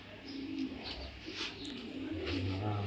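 Vaccinated young racing pigeons coo softly in low, repeated murmurs, faint and fairly close, with scattered chirps and light background noise.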